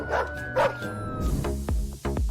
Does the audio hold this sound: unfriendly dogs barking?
yes